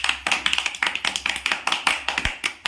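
Hands clap in a quick, steady rhythm, a long run of crisp, close claps during an early childhood class activity on whether things sink or float, with no talking.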